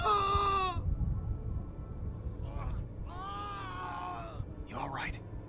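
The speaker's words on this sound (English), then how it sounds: "My god, that scream." Screams from the video game The Walking Dead, several drawn-out anguished cries with pauses between them over a low, dark ambient rumble.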